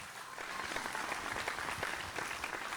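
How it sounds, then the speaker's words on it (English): Audience at a televised singing competition show applauding as contestants head backstage, a dense, steady round of clapping heard from a distance, even and sustained without pause. "please give them a big round of applause as they head backstage"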